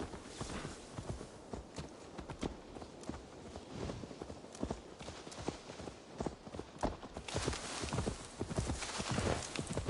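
Horse hooves clip-clop steadily in a video game, a busy rhythmic patter of hoofbeats with occasional whinny-like bursts, fairly close and continuous across the scene.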